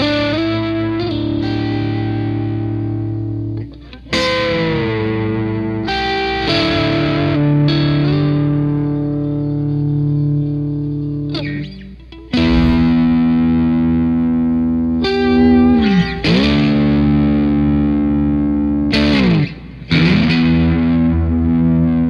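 Electric guitar played through a Boss SD-1 Super Overdrive pedal with a compressor ahead of it, loud driven chords and sustained notes ringing out in several phrases separated by short pauses.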